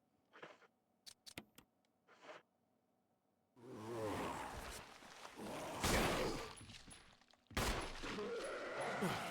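Gunfire in the Resident Evil video game, a few sharp isolated shots followed by dense bursts of shooting and crashing action, loud and close.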